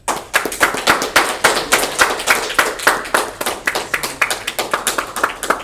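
Strong rhythmic clapping from a small audience at a career coaching investment club meeting welcomes a speaker, a close, even beat of sharp claps with no talk.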